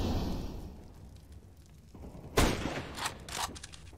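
Gunfire in the video game Counter-Strike: Global Offensive comes as a few sharp shots and a short burst at moderate distance after a quieter stretch, with faint background ambience.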